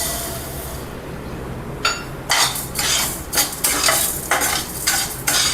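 Horse gram being dry-roasted with asafoetida in a pan, heard as a run of scraping, rattling stirs of the dry seeds in bursts after a quieter start, close and fairly loud with no talk.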